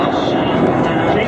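A fixed-wing airplane roars past at an air show over a race course, its broad engine drone steady and fairly loud throughout while a commentator talks over it.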